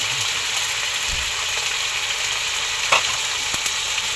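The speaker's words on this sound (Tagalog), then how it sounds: "Lalagay na din po ni Jampol sa paggisa yung panlahok po na kaunting karne." A little meat sautés for pancit canton in a pan over a wood fire, giving a loud, steady frying sizzle throughout with occasional faint clinks of stirring.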